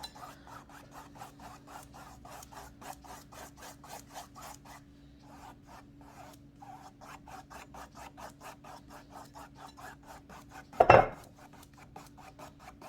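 A paintbrush is pushed lightly across a painted surface in a steady run of quick, soft scratchy strokes, close and faint, with a brief pause midway and one louder knock near the end, no talk.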